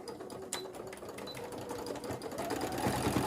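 Sewing machine stitching elastic into a gathered skirt, a fast continuous mechanical whir that stays close and loud and steadies toward the end, with no voices.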